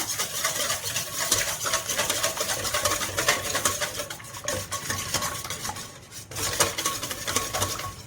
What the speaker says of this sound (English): So I'm just going to whisk those eggs together.